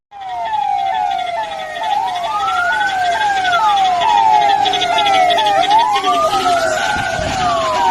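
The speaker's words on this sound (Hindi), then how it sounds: "कुछ देर में ही एम्बुलेंस आ जाता है।" A loud, close siren wails and yelps in rapid repeating sweeps, rising and falling continuously with no talk over it.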